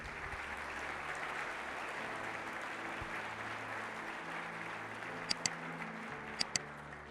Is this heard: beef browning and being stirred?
no